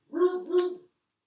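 A dog gives two quick barks close by, the second sharper, indoors with nothing else around them.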